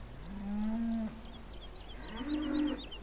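Cattle mooing in the farming game Farming Simulator 17, two drawn-out moos in succession, moderately close and clear, with faint bird chirps in the background and no talking.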